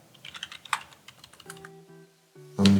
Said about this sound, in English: I'm typing so bad.